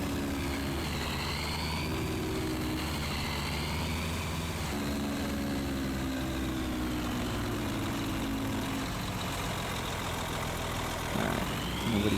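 A pickup truck's engine labours steadily up a hill while towing a tractor on a trailer, a continuous loud drone with shifting tones throughout and no talking.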